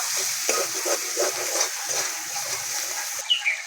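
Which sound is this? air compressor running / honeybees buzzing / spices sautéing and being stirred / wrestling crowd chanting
spices sautéing and being stirred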